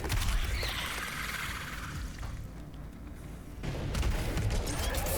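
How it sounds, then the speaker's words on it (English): Shotgun blasts of buckshot in a fast demon-slaying shooter game, dense booming gunfire mixed with game effects, loud and continuous throughout, with a brief dip in the middle before the firing swells again. "Spreading some more buckshot around."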